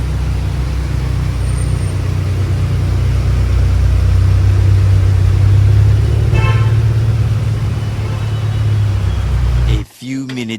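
A Volkswagen Polo GT fitted with K Sport coilovers drives off on a test drive, a loud steady engine and road rumble that swells midway, with a brief sharp clatter near the end.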